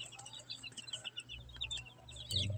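Cockerels and hens in a barn, with repeated short clucks and calls scattered over a faint background and a louder burst near the end.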